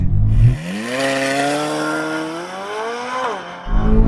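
A Corvette Z06 with a naturally aspirated V8 launches hard after brake boosting, the loud engine roar rising steadily through one long pull before a gearshift dip, with a brief burst of idle rumble at the start and end.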